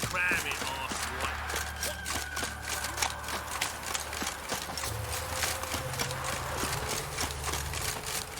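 Steady clip-clop of the horse Roach's hooves in The Witcher 3, a rhythmic trotting pattern on a road under low game music and ambient noise, moderately close and even-paced.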